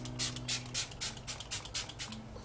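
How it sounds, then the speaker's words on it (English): Makeup Forever setting spray misted onto a face, heard as a quick series of soft, airy hissing puffs in an uneven rhythm, close and fairly quiet, with no talking. "I don't know what's up with the Makeup Forever setting spray"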